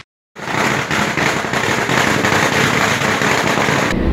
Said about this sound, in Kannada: ಅಧ್ಯಕ್ಷಗಿರಿ ಗಿಟ್ಟಿಸಿಕೊಂಡ ಅಭ್ಯರ್ಥಿಗಳು ಪಟಾಕಿ ಸಿಡಿಸಿ ಸಂಭ್ರಮಿಸಿದರು